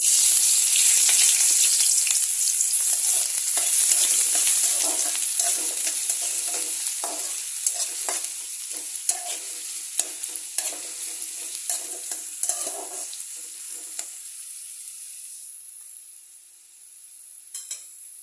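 Chopped onions fry lightly in a pan, hissing loudly and steadily up close, with stirring clinks and scrapes that thin out as the sizzle fades near the end.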